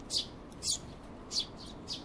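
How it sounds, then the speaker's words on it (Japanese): Sparrows fly overhead, giving four short, bright chirps spaced about half a second apart, moderately near and clear over a soft background hiss, with no one speaking. "そんな二人の頭上をスズメが飛び過ぎた。"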